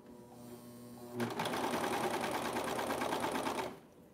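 A sewing machine stitches a knit neckband in one steady, rapid mechanical run of about two and a half seconds, close and clear, starting and stopping abruptly after a quiet hum.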